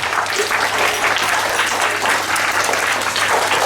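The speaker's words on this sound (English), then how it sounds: "First of all, clap for yourself for your sports day." Children at a school sports-day assembly clap for themselves, a loud continuous burst of many small hands applauding together.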